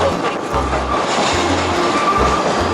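A train on the Oigawa Abt line railway approaches with rhythmic low rumbling wheel thumps and steady rolling noise, loud and close, the pulses repeating at regular intervals.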